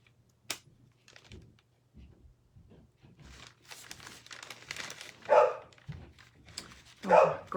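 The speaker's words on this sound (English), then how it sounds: "My dogs have decided to bark." Several dogs bark in short bursts at a middle distance inside a home, with the loudest barks near the end, over faint rustling and a low hum.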